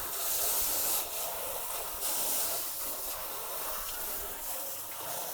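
Water hose spraying and rinsing out a boat's live well, a steady broad hiss with slight surges and shifts as the stream moves around the tank.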